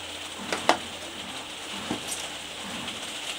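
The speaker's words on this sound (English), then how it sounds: "Fucking rain." Rain hisses steadily outdoors, a soft constant patter with a couple of faint knocks and drips on a surface, fairly quiet and with no voices.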